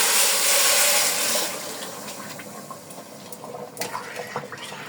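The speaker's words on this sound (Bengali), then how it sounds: "এবার আমি পানি দিয়ে নিব।" Water is poured into a pot of fried rice for biryani, a loud rushing splash for the first second and a half that then drops to softer trickling and bubbling with a few small knocks.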